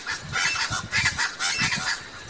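Aracuã (chachalaca) birds call out in a rapid, raucous, clucking chorus reminiscent of hens, with repeated harsh bursts rising and falling close by, no voices over them.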